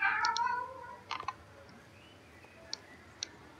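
A cat meows a couple of times near the start, followed by a few faint clicks in a quiet room.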